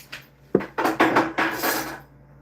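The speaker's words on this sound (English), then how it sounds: "I'm going to stir all that in" A spoon scraping and clinking against a pot while stirring butter, black pepper, ground cinnamon and seasoning salt, several close knocks in quick succession.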